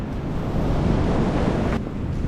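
Wind rushing over a beach with sea waves washing onto the shore along a stretch of coast near Lisbon, Portugal, a steady broadband roar with a brief surge near the end and no talking.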